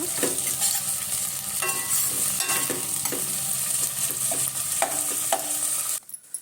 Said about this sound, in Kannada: ಈಗ ಒಂದು ಸಣ್ಣ ಟೊಮೊಟೊ, ಚೆನ್ನಾಗಿ ಮೆತ್ತಗಾಗೋ ತನಕ ಹುರ್ಕೊಳ್ಳೋಣ